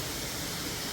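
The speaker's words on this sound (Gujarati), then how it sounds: "હા, તો કાજુ ઘીમાં તળવા દેવાનું." Cashews frying in ghee for a Kathiyawadi-style gunda curry, a soft continuous sizzle heard close and fairly faint, with no talk over it.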